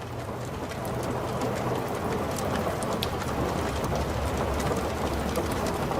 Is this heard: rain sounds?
yes